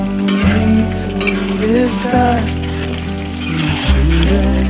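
Chicken curry stirred and frying in a pan, a steady sizzle with scraping stir strokes under continuous nearby talk.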